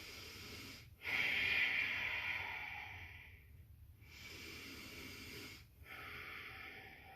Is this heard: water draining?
no